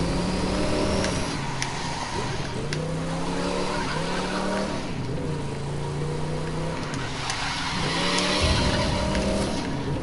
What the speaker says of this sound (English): Nice little drift there.